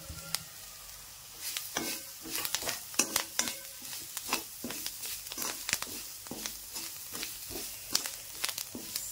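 Curry leaves and coriander frying in a hot pan with oil, a busy crackling sizzle punctuated by repeated sharp scraping stirs of a spoon against the metal, close and steady.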